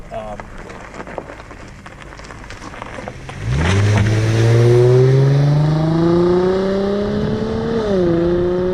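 A modified Infiniti FX35 with a catback exhaust and upgraded upper plenum revs loudly and climbs through the gears nearby, rising in pitch, dipping at a shift, then pulling on over faint earlier noise.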